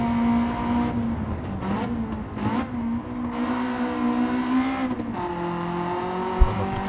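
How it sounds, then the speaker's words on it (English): A VTEC car engine revs hard at the Nürburgring in a racing video game, a loud sustained drone that dips and climbs as the throttle is worked out of a corner, with a brief tire-squeal pop near the end. "trying to floor it as I'm coming out of the corner"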